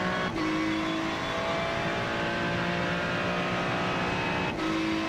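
Race car engine roaring steadily at high revs through a long acceleration, with wheels spinning on the track surface; loud and continuous, close by, with no voices.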